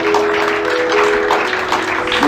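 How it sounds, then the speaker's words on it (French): A church congregation applauding, a dense and steady patter of clapping that carries on loud and close throughout with no voice over it. "acclamez pour eux."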